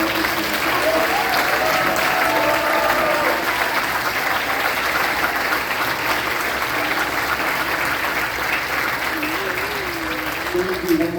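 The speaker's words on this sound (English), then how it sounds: "so we can give them a really big round of applause" A school concert audience gives a long, loud round of applause for middle school band students, continuous dense clapping filling the whole stretch with faint voices mixed in.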